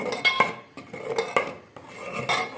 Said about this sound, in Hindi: इसे अच्छे तरीके से भून लेंगे।